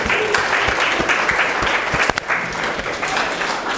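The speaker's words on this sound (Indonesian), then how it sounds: "Oke, tepuk tangan dulu dong." Students in a classroom tutorial clap together, a brief burst of lively applause with distinct individual hand claps audible within the steady crowd sound.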